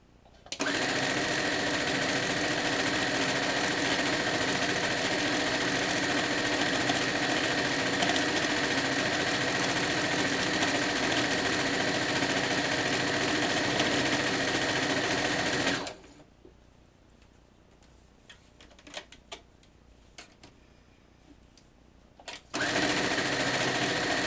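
A sewing machine runs steadily for about fifteen seconds while chain piecing quilt rows, a close, even mechanical whir, then stops for a stretch of quiet handling noises before briefly starting again.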